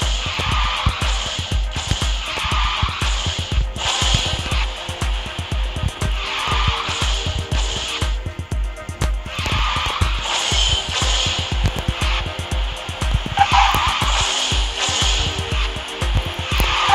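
In the Garena Speed Drifters racing game, an old tier 4 car roars loudly and continuously on the 11 City track, with repeated tire squeals and skidding drifts over engine drone and a pounding rhythmic background beat.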